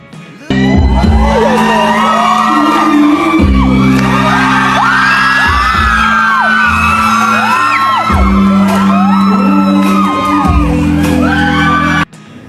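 A live TV variety show audience on It's Showtime screams and cheers loudly and continuously during a song performance, with shrill overlapping shrieks almost drowning out the music beneath.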